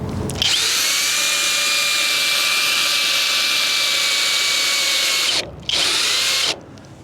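A hand drill cranks a Kwick Kranker Top Kranker trailer jack with a loud, steady high-pitched whir that runs for about five seconds. It stops briefly, runs again in a short burst, then cuts off.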